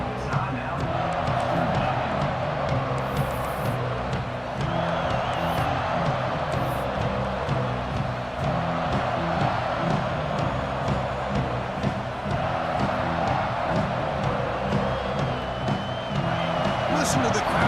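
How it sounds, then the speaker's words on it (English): Stadium crowd roaring and cheering in a football video game, a steady dense wash of noise early in the game, with bursts of whoops and clapping and a faint commentary voice mixed underneath. "Listen to the crowd energy here in the early going"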